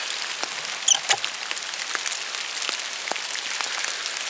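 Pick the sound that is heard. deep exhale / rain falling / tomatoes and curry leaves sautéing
rain falling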